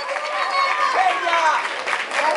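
Audience applause for a singer at a live show, a steady wash of clapping and crowd noise with a voice talking over it throughout.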